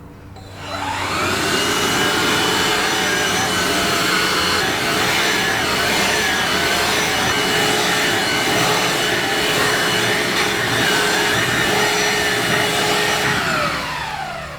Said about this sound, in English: it's pretty feisty for a battery powered vacuum, in my opinion